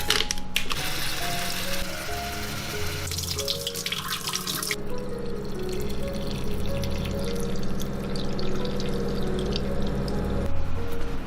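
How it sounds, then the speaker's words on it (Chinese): Food ingredients are rinsed under a running kitchen tap, producing a steady hiss of flowing water with splashing and clattering as the food is handled, close and continuous, with no talking. "把所有食材拆出来清洗一遍"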